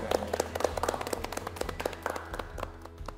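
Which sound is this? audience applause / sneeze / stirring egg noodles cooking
audience applause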